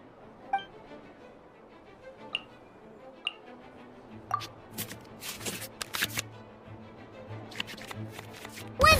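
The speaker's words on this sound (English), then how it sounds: "select any number of cards in our hand to shuffle back into the draw pile, and then draw the same number of new cards" Cards in the Genshin Impact card game being shuffled back into the draw pile, with a rapid flurry of papery riffling and clicks after a few sparse chime-like ticks, fairly close, with no talking.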